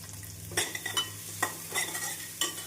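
Onions sizzle softly in a frying pan with salt and spice powder added, while a spoon stirs and scrapes a few times, the clatter coming in short bursts.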